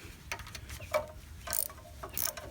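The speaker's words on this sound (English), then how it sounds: "Take a ratchet, which is 9/32," A 9/32 ratchet tightens the fastener on an outer tie rod of a Jeep Grand Cherokee, giving a few short, close clicking bursts with pauses between them.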